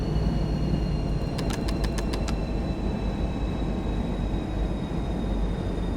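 DB BR 218 diesel locomotive in Train Sim World, its engine droning steadily as the revs fall away, a constant low rumble throughout with a brief run of clicks partway through and no talking.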